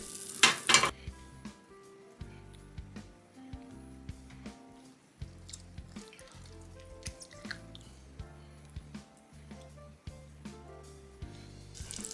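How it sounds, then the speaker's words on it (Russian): Butter in a frying pan for browning chicken legs gives a soft, steady sizzle, with a brief loud hiss at the start and repeated light clinks and scrapes of a utensil against the pan. "Немного сливочного масла на сковородку."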